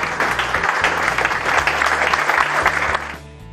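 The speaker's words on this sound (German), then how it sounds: "Das ist, glaube ich, ein Applaus wert." Applause at an anniversary gathering celebrating 20 years of RCCO, a loud dense clatter of many hands sustained for about three seconds, then cut short and fading, with steady music or tones held underneath.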